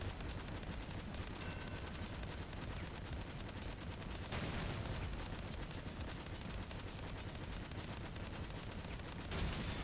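Many Goblin machine guns firing at once in the vehicle combat game Crossout, making a dense, unbroken rattle of rapid shots that holds steady, faint and distant, for the whole stretch.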